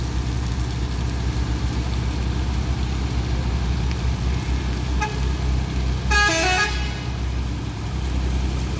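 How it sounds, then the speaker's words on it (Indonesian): A Hino trailer truck grinds up the steep Kedabuhan hill with a deep, steady engine rumble, and a loud horn blares once midway through. "ini dia truk Hino yang akan menanjai tanjakan Kedabuhan"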